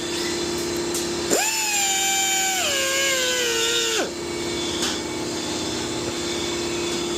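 While a Harley-Davidson Touring push-button ignition is being installed, a high-pitched power tool cuts a small notch from a panel corner, whining for close to three seconds as its pitch sags under load, then stopping, over a steady background hum.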